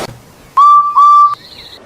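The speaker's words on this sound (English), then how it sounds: "Gordon's profanity was truncated by a far-off whistle." A far-off steam engine whistle gives two long, steady blasts, one right after the other, sounding loud and clear with nothing else heard around it.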